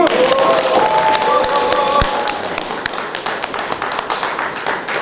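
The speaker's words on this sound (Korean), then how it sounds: "다시 한 번 박수!" Applause from a crowd at a political rally in Suncheon, dense clapping that gradually thins toward the end, with a voice briefly over the opening.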